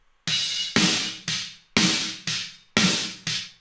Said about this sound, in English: That is a beefy snare drum sound.